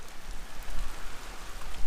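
Rain falls steadily outdoors, a soft continuous hiss with faint patter that rises and dips slightly, no voices over it.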